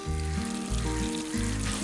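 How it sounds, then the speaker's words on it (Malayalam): Fried coconut chips go into a pan of sizzling Chinese potato and beef curry. A loud, close frying hiss runs throughout, along with a low cooking hum and a few stirring clatters. "ഇനി ഇതിലേക്ക് നമ്മൾ നേരത്തെ വറുത്ത് മാറ്റി വെച്ചിരുന്ന തേങ്ങാക്കൊത്ത് ചേർക്കാം."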